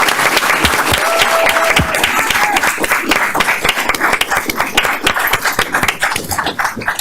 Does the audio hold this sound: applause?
yes